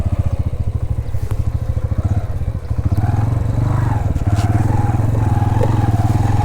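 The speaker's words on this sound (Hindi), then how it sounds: "पार्किंग में हम बाइक लगाते हैं।" Motorcycle engine thumping at a steady idle in the parking area outside a mosque, loud and close, with a rhythmic pulse that deepens and grows heavier partway through.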